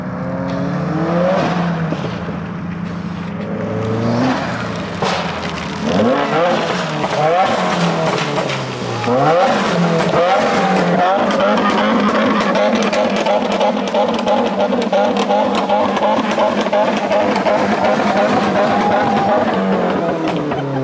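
A Subaru WRX with a high-flow catted downpipe sends out a loud, sustained exhaust roar, rising and falling in pitch as the engine revs hard, close by with some voices underneath.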